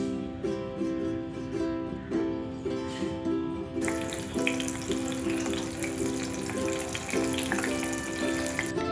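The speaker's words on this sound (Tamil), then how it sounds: "நம்ம நல்லெண்ணெயில் கத்திரிக்காயை வதக்கி எடுக்கும்பொழுது ரொம்ப நல்ல டேஸ்ட் வந்து உங்களுக்கு கூடுதலாக கொடுக்க வாய்ப்பு இருக்குது" Brinjal (eggplant) sautés in sesame oil for an eggplant kuzhambu, a continuous loud sizzle with a rhythmic pattern of stirring scrapes running throughout.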